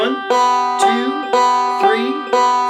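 Banjo picking rudiment played with thumb and index finger, alternating fifth, third and second strings in a steady, even rhythm of bright plucked notes with ringing overtones, heard alone and close.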